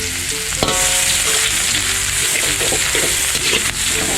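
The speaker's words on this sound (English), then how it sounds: "Using low flame, I'm putting in the garlic and ginger." Garlic and ginger fry over a low flame in a pan, giving a steady, close sizzle with a few light stirring scrapes and no talking.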